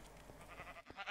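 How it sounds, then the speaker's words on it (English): Silverfish sheep in the Minecraft Stoneblock modpack let out a few short bleats, soft and close, alone with no talking. "They are most certainly silverfish sheep."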